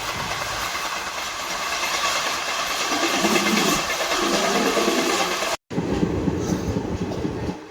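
A passenger train running on rails on a journey between Visakhapatnam and Rayagada, giving a loud steady rumble with rattling clatter, close and constant, cut by a brief dropout near the end.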